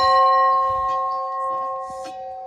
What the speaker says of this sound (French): Vincent me demande si je veux faire sonner la cloche.